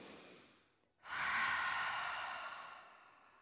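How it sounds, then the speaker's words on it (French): Ujjayi-style yoga throat breathing: a soft breath in, a short pause, then a long, audible exhale with a vibrating throat that slowly fades, close and alone. "activer ici une respiration dans la gorge et à faire vibrer la gorge"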